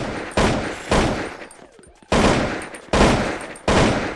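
Rifle gunfire in the zombie video game Zompiercer: about five loud, sharp shots spaced roughly half a second to a second apart, each with a short decaying tail.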